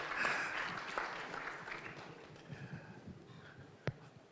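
Audience applause at a fintech summit panel, a faint, distant patter of clapping that thins out, ending with one sharp clap near the end.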